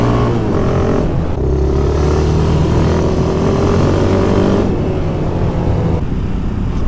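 A single-cylinder supermoto motorcycle engine revs hard and loud throughout, its throaty, pulsing exhaust note rising and falling with the throttle, close by and with no talk over it.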